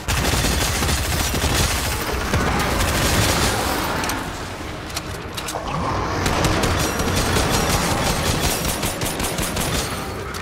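Dense, continuous gunfire from a Fortnite match, rapid overlapping shots and bursts layered loud and close for the whole stretch, dipping briefly midway before resuming at full intensity.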